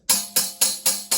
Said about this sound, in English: This is called the tambourine.